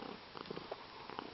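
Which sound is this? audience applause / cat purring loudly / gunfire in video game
cat purring loudly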